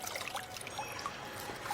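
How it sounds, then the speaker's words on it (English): Soft, steady trickle of a forest brook, a faint continuous babble of water running over stones with small splashes, quiet and unbroken with no voices. "In the forest near Ingolstadt, I lay by the side of a brook"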